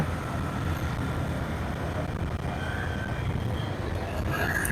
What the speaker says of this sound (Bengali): ট্রেন যাচ্ছে মালিবাগ হয়ে হয়তো বা ট্রেন এটা খুব সম্ভবত চিটাগাঙের ট্রেন মনে হচ্ছে